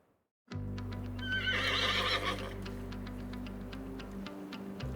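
A horse whinnies near the start while hooves clip-clop steadily on a ride through the Manitoba wilderness during a whitetail hunt, set against a constant low rumble throughout.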